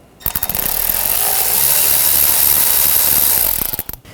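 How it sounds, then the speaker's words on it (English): A ratchet with a 7mm socket clicks steadily on a 2013-2019 Ford Escape during an upstream O2 sensor replacement, a close, continuous metallic ratcheting that runs for about three seconds with no talk. "I'm going to use a 7mm socket."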